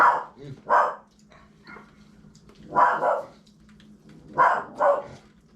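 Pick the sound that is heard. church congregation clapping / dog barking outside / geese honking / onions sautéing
dog barking outside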